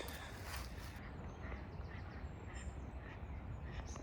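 Ducks quack intermittently on a club carp fishing lake, scattered calls over steady outdoor background noise with no talking.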